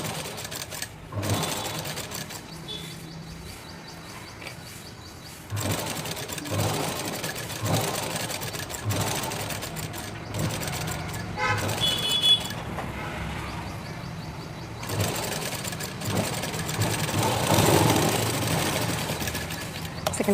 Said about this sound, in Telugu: సెట్ చేసి పాదం కింద పెట్టి కుట్టండి.